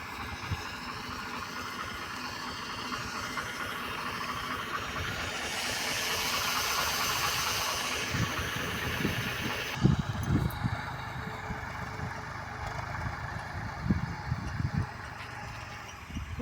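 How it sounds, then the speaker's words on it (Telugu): A tractor engine drives a tiller across a farm field, giving a steady broadband rumble and hiss that shifts partway through, with scattered louder knocks and clunks from the working implement; no one speaks. "ట్రాక్టర్తో మనం టిల్లర్ కొట్టించేస్తాం"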